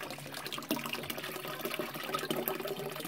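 Tap water runs into a container to gather plenty of water for washing clothes and dishes. A faint, continuous splashing gurgle with irregular spatters fills the short stretch, and no one speaks.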